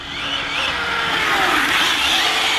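An ARRMA Infraction 6S BLX 1/7 scale RC car with a brushless motor drives at high speed outdoors, its electric whine rising and sweeping steadily and loudly throughout, with a hint of tire noise and no talking.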